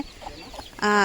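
A turkey gives a short, loud, buzzy call near the end, after a quieter stretch of soft rustling and faint background noise.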